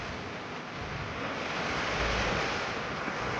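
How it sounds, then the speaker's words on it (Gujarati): Sea waves wash continuously onto a beach, a dense, steady roar of surf mixed with wind buffeting the microphone. "એટલું મસ્ત દરિયાના મોજા જેમ આવે"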